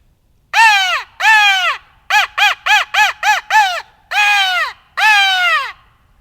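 A crow locator call blown to imitate cawing: loud, close, harsh caws, two long ones, then a quick run of six short ones, then two more long caws, with no talking.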